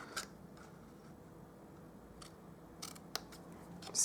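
Scissors give cardstock a quick trim along a score line for a Stampin' Up butterfly box, a few quiet snips spread across the moment, then a sharper cut near the end, close and faint in a still room.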